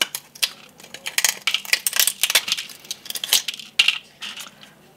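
Small pliers break the scales off a pine cone. Crisp, irregular woody snaps and clicks come close to the mic in quick clusters, some louder cracks among them, with no talking.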